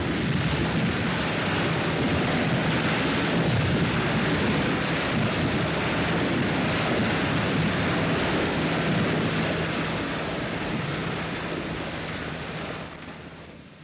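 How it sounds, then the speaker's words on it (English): Sea water rushes in through opened valves flooding a massive concrete harbour caisson as it settles onto the ocean bed, a loud continuous roaring wash that holds steady and then eases off near the end. "the valves were opened and the sea rushed in"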